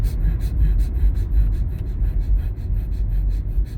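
Heavy, rapid breathing during Sky meditation comes as a close, steady, fast rhythm of forceful huffing breaths, with no talking.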